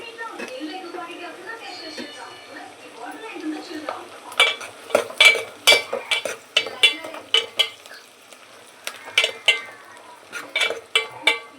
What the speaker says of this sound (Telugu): ఇలా వేగిన తర్వాత కట్ చేసిన 4 పచ్చిమిర్చి ముక్కలు వేసుకొని వేయించుకోవాలి.